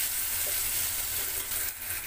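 Chopped capsicum sizzles in a pan for street-style Maggi noodles, giving a steady, dense frying hiss that stays close and loud throughout without a break.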